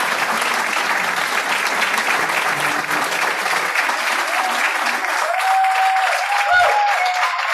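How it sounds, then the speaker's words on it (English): Sustained applause from a large crowd at a college alumni awards ceremony, steady and loud throughout, with a few faint tonal sounds rising near the end. "Please join me in a round of applause."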